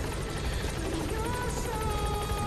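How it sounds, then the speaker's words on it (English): A helicopter in the video game Metal Gear Solid V arrives with a steady, close rotor chop and whine, a continuous rhythmic thumping and engine drone, fairly loud and without talking. "Okay, so the helicopter's here."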